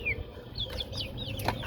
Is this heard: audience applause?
no